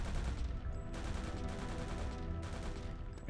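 Dense gunfire from the shooter game Return to Castle Wolfenstein, a continuous loud fusillade of overlapping shots and automatic bursts that never lets up.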